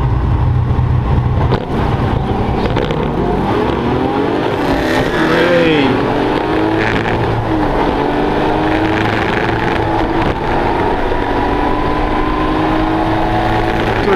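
A Triumph GT6 racing at The Bend circuit, its engine roaring loud and steady at high revs with pitch rising and falling through gear changes, plus a car passing.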